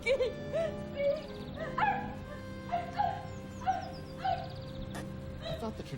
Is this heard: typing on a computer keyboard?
no